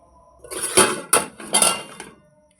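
A few sharp metallic clanks and scrapes as a kadai used for making chitoi pitha rice cakes is handled and set down close by, with no talking.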